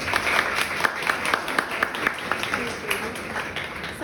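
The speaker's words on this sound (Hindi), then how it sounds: "ताली हो जाए।" Audience applause at a PCOD awareness talk for women and girls, a moderate patter of clapping from a small group that fills the clip steadily at mid distance.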